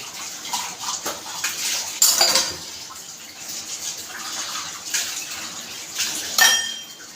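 Dishes are washed in a sink: cooking pots, plates, school tiffin boxes and tea pans. Running water splashes steadily while metal clinks and clatters come now and then, close by.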